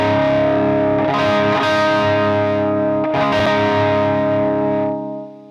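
Electric guitar drenched in chorus, distortion and reverb rings out a lush chord for post-punk and shoegaze songs, restrummed a few times as it sustains, then fading away at the end.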